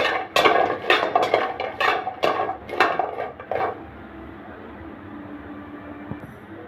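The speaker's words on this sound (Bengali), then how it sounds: "এখন আমি কাঁঠাল বিচিগুলো ভালোভাবে নেড়ে চেড়ে ভেজে নিচ্ছি।" Jackfruit seeds are stirred and fried in a pan with a utensil. About a dozen quick scraping clatters come first, close and loud, then give way to a quiet, steady frying hiss.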